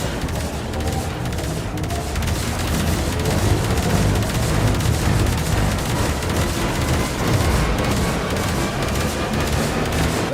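Cannon fire and explosions batter a Railjack ship in the game Warframe, a dense, continuous barrage of booming blasts and gunfire-like bursts, loud and unbroken for the whole stretch.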